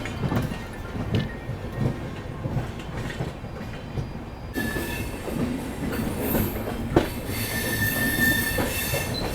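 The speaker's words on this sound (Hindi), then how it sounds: "चलो अम्बाला कैंट से अपनी ट्रेन निकली है" Train leaving Ambala Cantt on a foggy run toward Shimla, with steady rolling rumble and wheel squeal growing in the second half, near and continuous, no talk.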